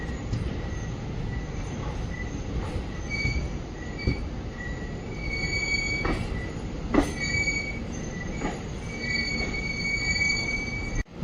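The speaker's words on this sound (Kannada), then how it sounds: "ಬಿಜಾಪುರ ಮಂಗಳೂರು ಎಕ್ಸ್ಪ್ರೆಸ್ ಬಂದೈತ್ರಿ." The Bijapur–Mangalore Express pulls into a station platform at Hassan Junction, with steady rumbling of rolling railcars and repeated high-pitched wheel squeals recurring throughout, with no talk.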